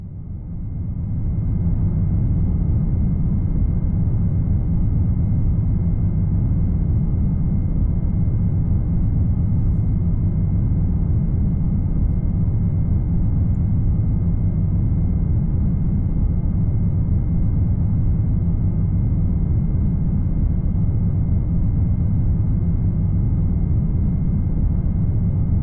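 Apollo rocket engine after staging and ignition: a dense, steady roar of low rumble that swells in during the first two seconds, then holds loud and unbroken to the end.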